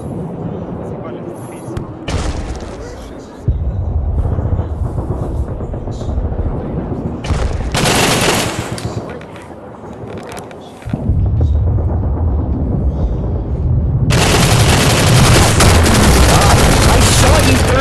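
Rapid machine gun fire in a close-quarters video game firefight, loud sustained bursts broken by short pauses, with heavy booming blasts mixed in.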